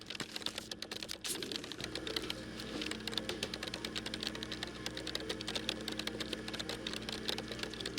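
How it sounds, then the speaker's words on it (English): Rapid typing on a computer keyboard in a video game scene, a fast, continuous patter of key clicks over a low steady background hum. "Joe's fingers are just flying across that keyboard."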